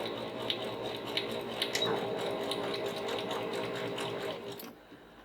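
Sewing machine running a straight stitch to sew vines on a raw edge appliqué fall sampler quilt block, a steady close whirring mechanical hum with rhythmic needle clatter that stops abruptly near the end.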